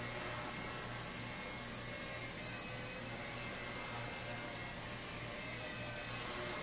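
A Blade 70S RC helicopter hovers with a constant faint high-pitched motor whine and steady rotor buzz, unbroken and without talk.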